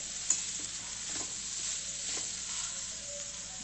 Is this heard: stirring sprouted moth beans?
yes